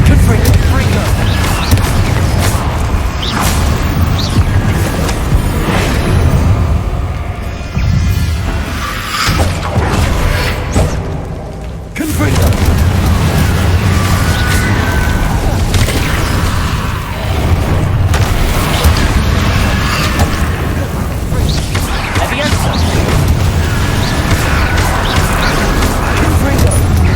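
Confringo blasting spells fired in Hogwarts Legacy, a run of booming explosions and bursts mixed with game music and effects, loud and continuous throughout, with a spoken voice heard over it.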